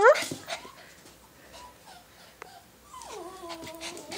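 A bouncy puppy at play during a game of fetch gives a short high whimpering whine at the start, then quiet rustling, and a longer drawn-out whine near the end, close and fairly faint.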